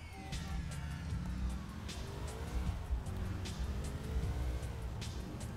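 A car engine in GTA IV drones steadily and loudly throughout with low rumble, while faint siren-like tones and brief higher bursts come and go over it.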